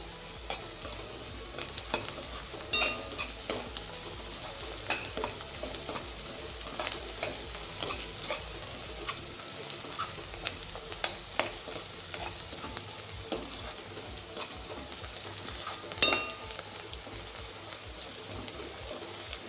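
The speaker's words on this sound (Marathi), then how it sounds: "कांदा लसणाच्या पेस्टलासुद्धा आपण छान भाजून घेणार आहोत तेलामध्ये" Onion-garlic paste frying in oil in a pan while chole is cooked for chole bhature, a steady close sizzle with scattered stirring scrapes and small pops throughout.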